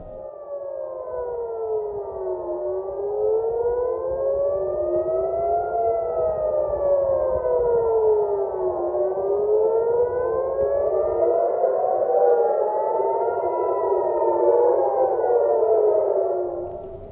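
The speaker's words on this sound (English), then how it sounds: "sirens blared over central Israel as the missiles fired from Yemen were intercepted" Air raid sirens wail over central Israel during a missile attack from Yemen, several overlapping rising and falling tones sounding steadily and loudly for the whole span with no talk.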